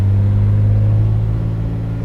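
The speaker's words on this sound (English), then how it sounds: "It don't sound like a little 47 with a 6-cylinder, does it?" A 1947 Chevy Stylemaster's six-cylinder engine runs loud and close with a steady, deep rumbling drone and a slight rev, with no talking.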